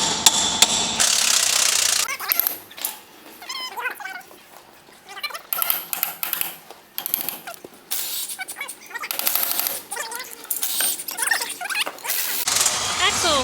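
Hammer taps on a spindle nut to drive an axle out, sharp metallic knocks in irregular clusters, close and fairly loud, with talk between the strikes.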